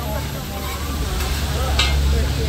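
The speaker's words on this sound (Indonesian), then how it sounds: "Diaduk-aduk." Noodles and bean sprouts stirred in a hot frying pan at a halal night market stall in Bangkok, a steady close sizzle with scraping stir strokes throughout.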